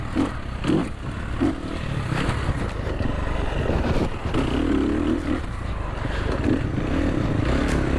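A 2024 Sherco 300SEF Factory Edition trail bike rides a downhill trail, its engine a continuous broadband drone with wind buffeting and scattered clatter, steady and fairly loud throughout with no talk.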